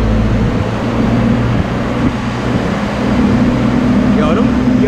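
A 3.6 car engine runs hard on a dyno, a loud, steady low drone with sustained harmonic tones that hold throughout, close and continuous.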